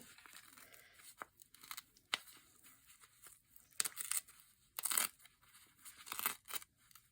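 Foundation paper is torn out of a sewn quilt block in short, sharp rips and crinkles that come in irregular bursts, close and fairly quiet between tears.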